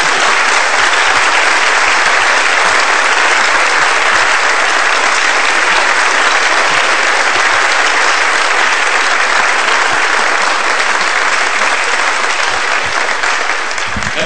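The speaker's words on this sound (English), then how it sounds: "Give them a final round of applause." An audience at a Christmas concert gives the musicians and their conductor a final round of applause: dense, steady clapping from a large crowd that holds at full strength for the whole stretch.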